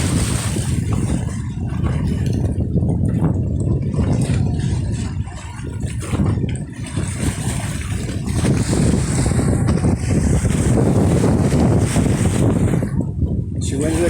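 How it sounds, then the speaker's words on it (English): A SpaceX moon rocket launching for South Korea in August 2022 gives off a steady, heavy low roar from a distance, mixed with buffeting wind across the microphone. "We have a liftoff."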